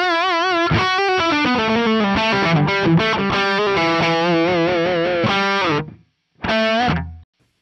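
Electric guitar played through a Fender Pugilist distortion pedal, loud saturated chords and sustained bent notes ringing for several seconds, then a brief pause and one more short distorted phrase, with no voices.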